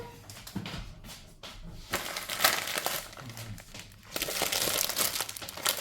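Paper crumpled and crinkled near the close mic while unpacking Leclerc groceries, a run of dense rustling bursts with brief pauses, no talk over it.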